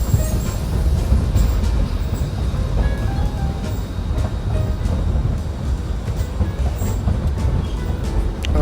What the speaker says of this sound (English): listen to the train sounds of Naturespace